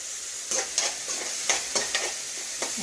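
Peeled yam with turmeric, chili powder, salt and tamarind sautéing in a pan, a steady close sizzle broken by several scraping stirs of a spoon, with no talk.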